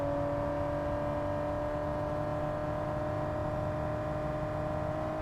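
A car driving fast at top speed, a steady loud engine drone with a constant whirring tone that holds even throughout, with no voices.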